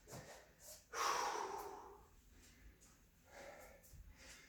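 During a thigh, hamstring and glute fitness workout, a person breathes hard nearby, with a few forceful snorting exhales and quieter gasping breaths.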